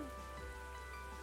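Steady rain in the video game TEVI, a dense continuous hiss filling the short clip with no voices over it.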